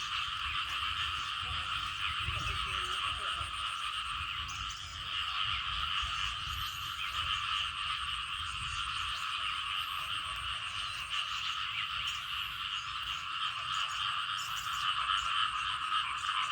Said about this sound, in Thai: เสียงกบเสียงเกียดห่วง ในป่าในฝนมากครับ